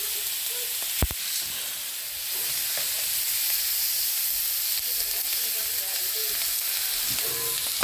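Steak fries in melted butter in a pan, giving a steady close hiss with scattered crackles and one sharp clack near the start; the sizzle runs on its own without talk.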